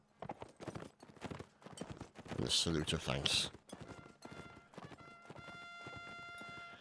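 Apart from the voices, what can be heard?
horse hooves clip-clop in Mount and Blade video game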